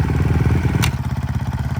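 A clutch motorcycle engine runs close and loud with a pulsing, throbbing rumble and brief clatter.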